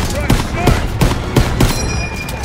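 Machine-gun fire in a World War II video game rattles out in repeated close, loud bursts, the rapid pops packed tightly together with brief gaps between volleys.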